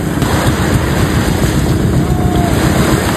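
A fishing boat heads out to sea, with a loud, steady engine drone mixed with wind buffeting the microphone and the wash of waves.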